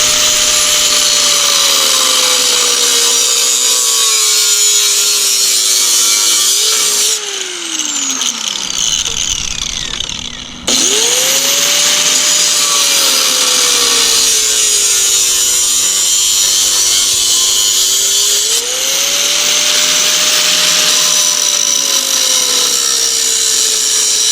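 A DeWalt angle grinder cuts through a solid steel pole with a loud, high-pitched continuous whine whose pitch sags and recovers under load, briefly dropping out midway before resuming.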